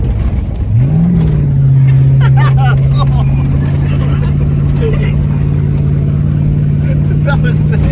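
Lifted Ford Crown Victoria powers off-road through dirt, its engine climbing quickly into a loud, sustained roar close by, with voices shouting over it.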